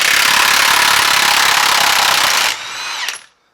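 A Milwaukee M18 high torque impact wrench hammers off a tight 36 mm axle nut in one loud, continuous rattling burst of about two and a half seconds, then briefly whirs and spins down to silence.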